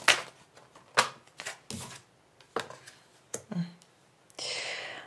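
Tarot cards are shuffled and drawn: a series of short, crisp riffling flicks and slaps at irregular intervals, close and quiet, ending in a longer rustling sweep of the deck.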